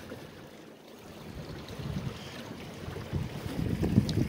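A sailboat under sail in the wind, steady rushing wind buffeting and water swishing past the hull, rising and loudest toward the end, no voices.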